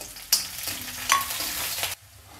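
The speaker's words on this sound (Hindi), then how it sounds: "लहसुन मिर्च अच्छे से भून लिए हैं।" Garlic and green chilli fry loudly in a pan for radish curry, a bright sizzle bursting in after a short lull, swelling once more midway and then cutting off sharply near the end.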